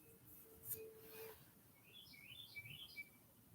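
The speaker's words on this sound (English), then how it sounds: "Not the birds chirping in the background, though." Birds chirp faintly in the background, a few short high tweets and a quick rising series of calls over a quiet room tone.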